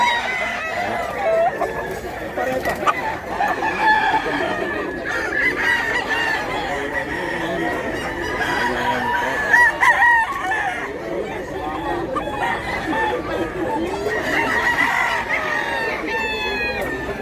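Roosters crow repeatedly at a cockfighting fowl sale, with several birds calling near and far under steady background chatter, and people talk throughout.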